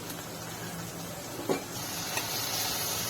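Steamed potato and okra being stirred in a pan over low heat, a soft continuous sizzle and hiss with a couple of faint spatula scrapes, close and quiet with no talking.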